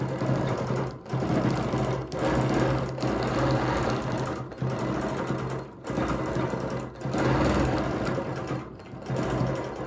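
A sewing machine with a ruler foot stitches off a quilt, running in a fast, steady mechanical whir broken by several brief pauses between passes.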